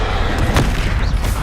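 The Confringo blast spell in Hogwarts Legacy lands as a loud, close booming burst with a sharp crack near the middle, set against continuous game rumble.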